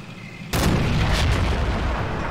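In a WWII video game, an F6 ground attack on a gun emplacement lands a sudden, heavy artillery blast, followed by a loud rumbling roar of explosions that lasts to the end.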